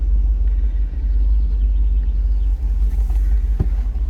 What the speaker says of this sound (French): C'est le démarrage à chaud.